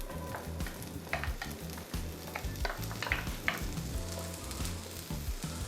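Chopped onions sautéing in hot olive oil on a cooktop, a steady close sizzle with irregular crackles and occasional stirring scrapes, no voices over it.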